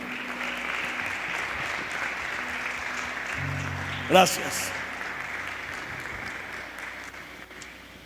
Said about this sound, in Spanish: Dele fuerte ese aplauso al que vive y al que reina.